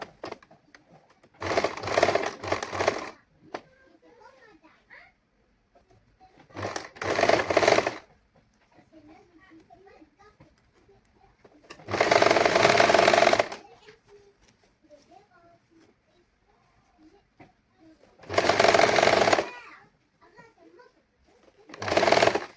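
A sewing machine stitches saree blouse fabric with lining in four loud, close bursts of rapid whirring, separated by quieter pauses filled with faint handling of cloth and a talking voice.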